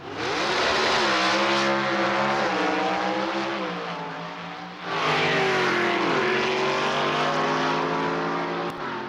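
A Ford Thunderbird pro stock drag racing car roars down the track in 1986, a loud, harmonically rich engine howl rising through the gears, dipping briefly at a shift, then climbing again before fading.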